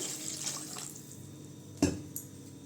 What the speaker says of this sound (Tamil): தண்ணி ஊற்றிக்கலாங்க தேவையான அளவு.